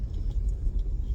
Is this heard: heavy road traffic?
yes